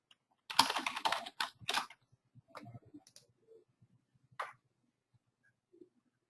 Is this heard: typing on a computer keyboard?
yes